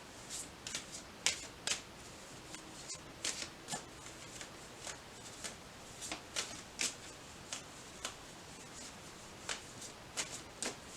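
Tarot cards are shuffled in a steady run of crisp riffling flicks and soft slaps, close and moderately loud, with a few brief pauses between bursts and no talking.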